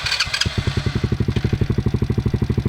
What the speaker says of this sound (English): You turn the key, you hold the brake, and you fire it up.